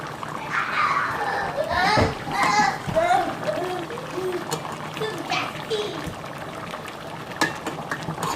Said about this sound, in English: My kids are so noisy.